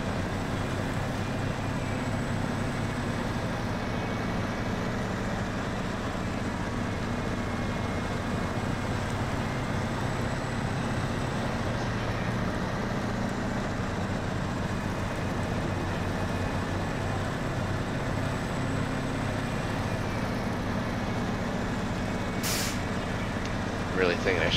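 A P16 truck in a truck-driving video game rumbles along steadily with a low engine drone and road noise, holding a constant level throughout, with a brief hiss near the end and a voice talking over it.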